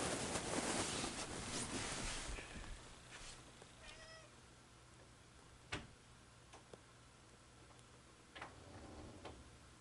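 A cat meows a few times, fairly faint, among scattered light ticks and taps in a quiet room.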